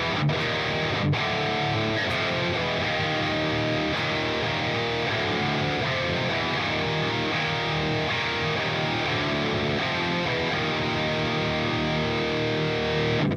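Electric guitar played through a high-gain NAM amp capture with a built-in boost pedal, thick distorted chords and riffs ringing out loud and continuous with no talking.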